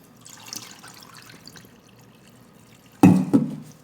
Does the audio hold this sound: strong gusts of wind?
no